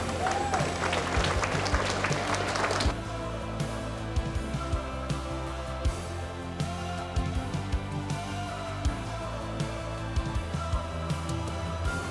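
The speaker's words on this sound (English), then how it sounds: "let's give the committee a wonderful round of applause" Audience applause at the Kilkelly Kilmovee annual magazine launch in Ireland, a loud burst of clapping for the committee for about three seconds before it drops away to quieter room sound with scattered claps.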